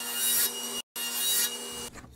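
A saw cuts slices into a small wood piece set against a stop block, making rough rasping strokes that pause briefly in the middle and then resume, ending with a sharp knock.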